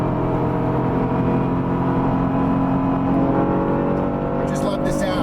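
Acura NSX with a mid-mounted engine and Targa top revving while driving, a steady loud rising engine drone heard from inside the cabin, with someone talking over it.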